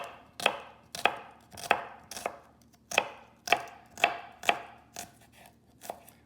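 A knife chops steadily through onion on a cutting board, cutting very thin slices for a cucumber salad: about ten crisp, evenly spaced thuds, close and clear, with no voices.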